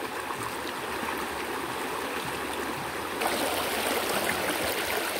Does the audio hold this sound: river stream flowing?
yes